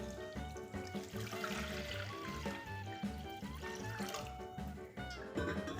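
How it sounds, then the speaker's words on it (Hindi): Water pours into a pot for boiling noodles, about a litre, a steady splashing and trickling stream heard up close over a dense background of music. "मैं डाल रहा हूँ पानी।"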